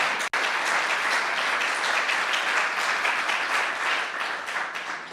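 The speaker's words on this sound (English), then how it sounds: "If I could have a round of applause for Jane's Herculean lift on this." An audience at a national healthy housing standard launch event applauds, a full steady round of clapping after a brief knock at the start, gradually thinning toward the end.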